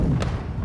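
A grenade goes off in Call of Duty: Modern Warfare II, a single dull, heavy thud with a brief burst of noise, close and loud amid game ambience.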